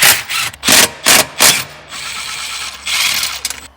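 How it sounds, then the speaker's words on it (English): A hand tool removes hex screws from a car's steering column during dashboard removal, with several short, loud ratcheting bursts in quick succession followed by a softer, steadier whirring run and another burst. "Also I can remove the screws for the steering wheel column."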